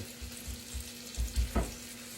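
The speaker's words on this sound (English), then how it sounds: "We're going to fry it up." Thick pork chops frying in a pan at home: a steady close sizzle with soft low thumps as the meat shifts, no talk.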